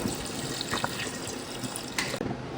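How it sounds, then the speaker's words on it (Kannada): Water pours steadily into a pressure cooker while chicken shorba soup is being made, giving a continuous gushing splash with a few brief spikes. The flow cuts off sharply near the end, and no one speaks. "ಈಗ ನಾನು ನೀರು ಆ್ಯಡ್ ಮಾಡ್ಕೊತಾ ಇದ್ದೇನೆ."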